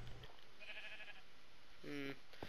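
Sheep in a Minecraft-style survival game bleating twice, short nasal calls, the second louder and clearer, heard faintly over quiet background with a person talking.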